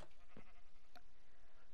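Quiet sheep bleats from the Minecraft video game, two or three short calls heard faintly over a soft, steady background, with no voices.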